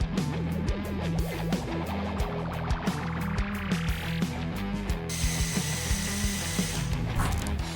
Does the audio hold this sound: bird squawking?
no